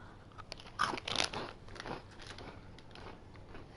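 Someone bites and chews crunchy Cheetos close to the mic, a few sharp crackling crunches clustered early, then softer chewing that fades out.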